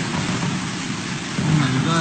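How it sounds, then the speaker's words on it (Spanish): Steady heavy rain hissing continuously during a storm in Lima, Peru, with a low rumble of thunder swelling near the end. "Donde se puede apreciar los truenos, el sonido de la lluvia."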